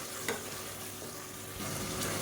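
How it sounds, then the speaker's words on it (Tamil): Three medium-sized chopped tomatoes sizzle in hot oil with fennel, a steady close frying hiss broken by a few brief stirring scrapes, with no voices. "மீடியம் சைஸாக மூணு தக்காளி பொடியாக நறுக்கி சேர்த்துக்கலாம்"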